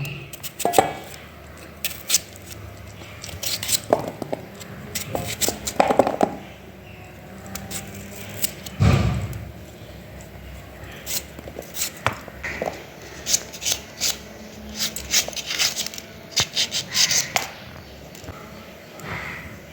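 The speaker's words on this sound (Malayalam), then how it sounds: "ഇത് നമുക്കിനി ചെറുതായിട്ട് മുറിച്ചെടുക്കാം" A knife chops green tomatoes on a board, with irregular bursts of sharp taps and short pauses between them.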